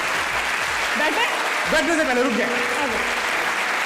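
Applause from a talk-show studio audience for an arriving actress guest, a steady wash of clapping held throughout, with a host speaking over it.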